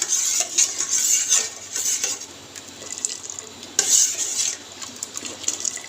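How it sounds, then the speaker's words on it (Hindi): A metal spoon stirs sugar into milk heating in a kettle on a lit stove, giving repeated clinks and scrapes against the kettle bottom in an uneven, continuous rhythm, close and fairly loud. "ऐसे चम्मच लाते जाना है।"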